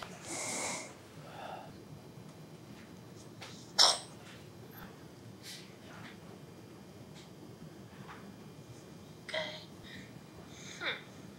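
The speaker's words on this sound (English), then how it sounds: "so the cat sneezed twice" A cat gives a couple of short, sharp sneezes, faint and spaced apart against a quiet room background.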